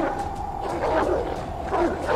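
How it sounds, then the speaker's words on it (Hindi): Dogs barking in the video game Oddworld Soulstorm, a series of repeated barks and yips at a steady pace over a muddy game background, moderately loud and somewhat distant. "लेट्स होप कि ये कुत्ते शांत हो जाए।"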